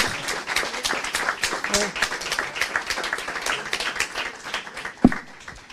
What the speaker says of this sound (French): je vous propose qu'on applaudisse tous nos intervenants